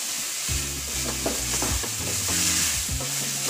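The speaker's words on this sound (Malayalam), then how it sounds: "ഇത് നന്നായിട്ടൊന്ന് ഇളക്കി കൊടുക്കാം" Egg biryani masala stirred in a pan, a close and steady scraping and stirring with a soft sizzle underneath, repeated strokes running throughout and no voice.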